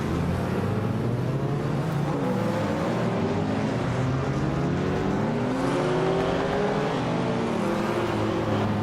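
A 1987 Ford Sierra Cosworth racing engine in a video game roars steadily and loudly throughout, with rising and falling pitch sweeps as it revs and shifts through gears. No voices are present.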